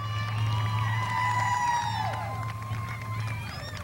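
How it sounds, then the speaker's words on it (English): A crowd cheers and whoops for the season champion at Midvale Speedway, a stock car track, with scattered shrill calls and whistles over a steady low drone, heard from a distance. "How about a big round of applause for your champion?"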